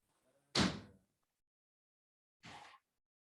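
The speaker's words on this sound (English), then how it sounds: "I'm gonna close my door or my window because my AC just came on." A door or window shuts with a sharp thud, followed about two seconds later by a softer second knock, both close and isolated against silence.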